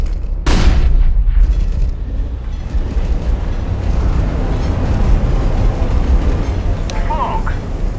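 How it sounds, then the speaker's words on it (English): A flashbang grenade in CS:GO goes off with a sharp, broadband bang near the start, followed by a sustained noisy rumble and game ambience running to the end, with voices talking over it. "Throwing a flashbang!"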